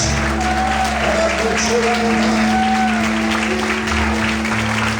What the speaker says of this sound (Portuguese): levanta a sua mão, glorifique e aplauda ele nessa noite.